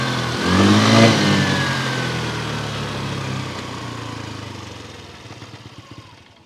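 A Hero Xoom 160cc scooter engine revs up hard and accelerates, loud and close, its pitch climbing then settling into a steady drone that fades slightly at the end.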